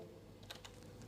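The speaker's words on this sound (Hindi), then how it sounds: "अब आपने यहाँ पे टाइप करना है जूम" A computer keyboard being typed on while a search is entered in Google Chrome, heard as a couple of soft, quick key clicks close by against a quiet room.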